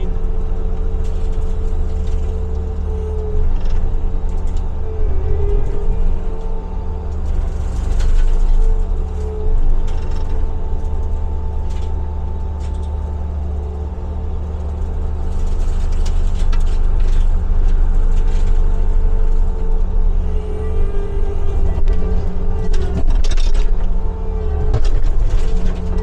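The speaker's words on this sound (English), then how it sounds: "it holds up an 850-pound brush cutter" An 850-pound brush cutter chews through tough vines and an old hedge, its loud engine droning continuously with irregular cracking and crunching bursts as branches break.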